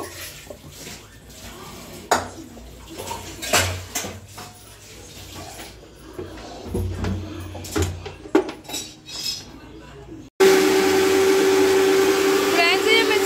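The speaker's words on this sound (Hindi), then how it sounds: "फ्रेंड्स ये मिक्सी में पिस रही है" A mixer grinder whirs into action on raw mango pulp for a sweet green-mango drink, starting abruptly after a stretch of clattering dishes and cutlery and then running loud and steady to the end.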